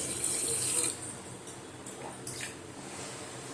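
Water poured from a tumbler onto soaking rice and lentils for venn pongal, a steady splashing pour that fades into a softer trickle and light drips, close and fairly quiet.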